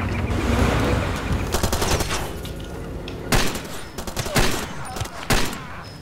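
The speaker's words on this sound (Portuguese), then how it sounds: "Aí, dois tiros, o cara já caiu." Gunfire in the video game Far Cry 2: bursts of rapid automatic shots followed by several loud single blasts, close and punchy over a rumbling in-game background.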